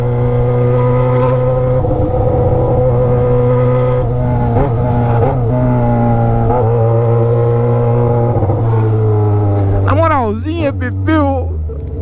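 Yamaha XJ6 motorcycle engine pulling hard in sixth gear, a steady loud drone with rising harmonics and brief gear-like shifts, close and continuous, ending in quick revving spikes.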